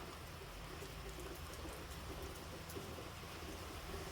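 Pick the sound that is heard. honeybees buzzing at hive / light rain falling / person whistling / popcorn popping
light rain falling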